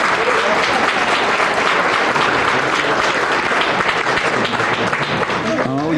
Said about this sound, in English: I think we need a round of applause for Judy as well, don't you?